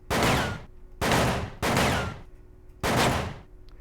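Four loud, sharp gunshots ring out in the Hitman Contracts video game, evenly spaced about a second apart, each one a heavy burst that decays quickly. No voices are heard.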